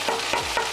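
A spoon stirs Samogitian pancake batter in a bowl, three soft, wet strokes in quick succession, close and fairly quiet with no talking.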